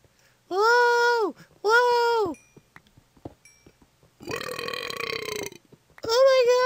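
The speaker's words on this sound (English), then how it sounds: "Oh my god, I burped!" Several loud, drawn-out burps close to the mic in a Minecraft survival session, two long belches then a rougher one and another starting at the end, with brief mouth noises between.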